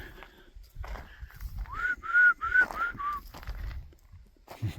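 A few short, rising whistles close by, one after another, over faint footsteps and low rustling outdoors.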